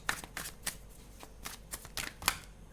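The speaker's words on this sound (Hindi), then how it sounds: "एक और बार शफल करके कार्ड्स लेते हैं" Tarot cards are shuffled by hand in quick soft riffling bursts, close and quiet, with several short flurries and no talk.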